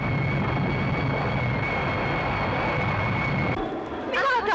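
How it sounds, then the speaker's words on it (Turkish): A steady, loud roar of a jet aircraft engine fills the scene with an unbroken whine on top, then cuts off abruptly near the end. "burada bu jet sesleri seni hiç yalnız bırakmayacaklar"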